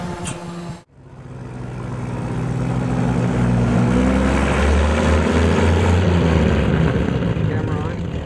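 Rolls-Royce speedster engine with a straight-pipe exhaust and no catalytic converter, a loud, deep, steady roar that builds after a brief cut and then holds strong, with some rising tones.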